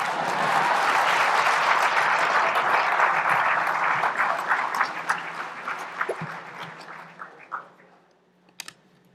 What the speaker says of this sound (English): And I would clap for that.